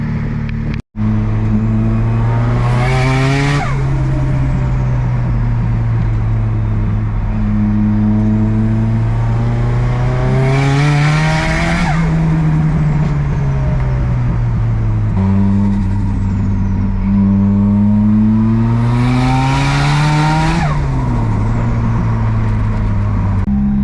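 A turbocharged car with a forged SR20 engine is driven hard, revving up through the gears in repeated sweeps and easing off between pulls, with the engine loud and close throughout and no talk.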